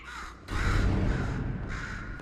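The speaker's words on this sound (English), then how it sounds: "Could you, murder this bird for me?" A crow caws loudly and close in the video game Portal 2, a few harsh, rasping calls over a rumbling background, with no talking.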